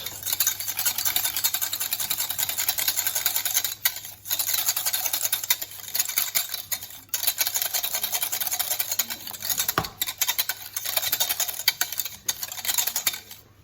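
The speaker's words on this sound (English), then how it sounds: "get yourself a whisk, and give it a good whisk. Now, what we're looking for is a smooth paste." A whisk beating profiterole choux paste in a bowl, a fast continuous rattling scrape that runs steadily with a few brief pauses, close and moderately loud, with no talking.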